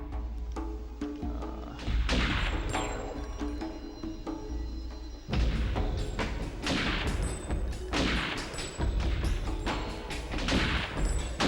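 Gunfire in the video game Apex Legends, bursts of shots and heavy thuds and impacts in rapid dense volleys with no speech.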